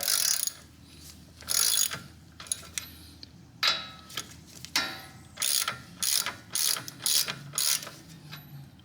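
A ratchet wrench with a 13/16 deep well socket turns a strut nut on a Bilstein 5100 front strut for a 2015-2022 Chevy Colorado or GMC Canyon, giving close, crisp bursts of rapid clicking separated by short pauses.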